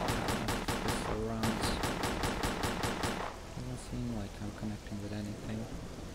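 Rapid pistol shots ring out in a burst of evenly spaced cracks during a bandit firefight in S.T.A.L.K.E.R.: Clear Sky, followed by sparser gunfire under a voice talking.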